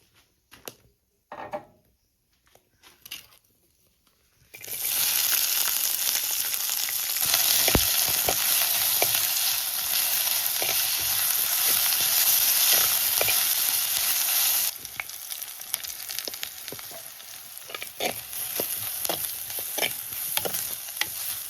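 Turmeric and other spice powders hit a very hot pan for fish curry. After a few soft knocks, a sudden loud, hissing sizzle erupts and holds for about ten seconds, then eases into quieter crackling with stirring scrapes.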